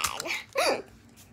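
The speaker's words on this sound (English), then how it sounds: "So yeah, I have the hiccups." A person's hiccups, two sharp voiced hiccups in quick succession, close and fairly loud.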